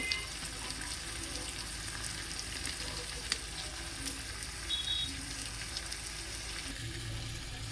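Spices being sautéed in a pan for egg dal, a steady close sizzle and frying crackle with occasional stirring scrapes, continuous and moderately quiet.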